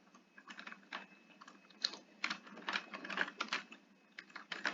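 Java code being typed on a computer keyboard, quick irregular bursts of clicking keystrokes with brief pauses between runs, close but quiet, no voice.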